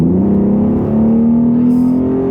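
A Ford Mustang 3.7L V6 pulls hard under heavy throttle, a loud, steady engine drone rising in pitch close to the cabin with a brief shift near the middle.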